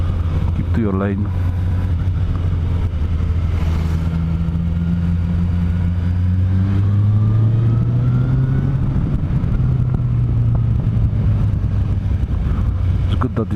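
A lorry draws near on a narrow mountain road in the Picos de Europa, its engine drone rising and shifting in pitch over steady wind and road noise from the vehicle the speaker is riding in.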